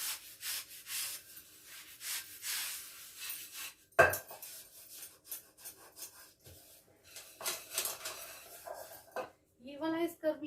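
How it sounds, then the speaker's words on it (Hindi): Kitchen utensils being scoured with a steel scrubber give off faint, intermittent raspy rubbing strokes with occasional metallic clinks and short pauses, ending in a brief burst of clattering. "मैं अपने बर्तन मांज लूँ"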